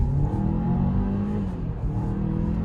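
A 2021 Kia Sorento with a dual-clutch gearbox accelerating hard through a turn, its steady engine rumble rising with slight dips where quick gear changes land, close and continuous with no talking.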